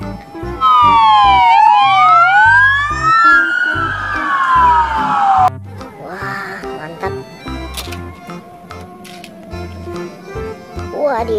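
A toy police car siren wails in sweeping up-and-down tones for several seconds, loud and close, before cutting off into clicking and softer electronic chirps.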